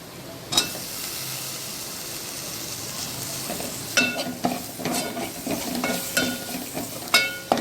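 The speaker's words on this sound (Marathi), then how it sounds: "मिरची पावडर व्यवस्थित हलवून द्यायचं" Chili powder stirred into an onion-tomato masala frying in a pan for alurvadi curry: a soft steady sizzle with one sharp scrape early, then a run of spatula scrapes and knocks in the second half, close and alone.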